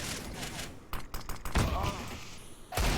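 Gunfire and grenade blasts from a Counter-Strike esports match in an ESEA playoff, with bursts of shots and thuds coming in clusters and a loud blast near the end, under a caster's commentary.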